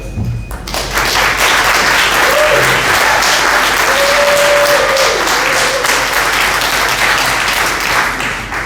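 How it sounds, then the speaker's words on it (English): Loud, sustained applause from an audience at a municipal all-candidates meeting fills the room, a dense wash of clapping that starts suddenly and carries on evenly throughout. "Clapping's okay"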